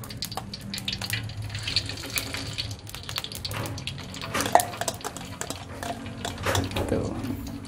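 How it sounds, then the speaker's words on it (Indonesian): Hot oil poured over a kecombrang flower omelette frying in a pan, irregular splashing, sizzling and crackling bursts with clinks of a utensil, fairly close and moderately loud, with a voice speaking faintly underneath. "Nah ini udah mendidih, langsung aku siram."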